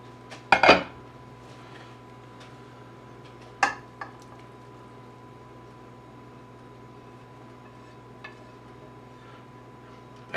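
Browned onion goes into a pot of homemade chili, marked by a sharp metallic clank of utensil on pan, a second clatter a few seconds later, then faint taps over a quiet kitchen hum.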